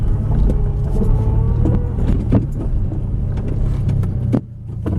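An Acura RSX Type S with a Full Spec D cat-back exhaust drones loudly from inside the car with the windows up, a steady engine hum around 3,000 RPM with a few thumps, dropping off abruptly near the end.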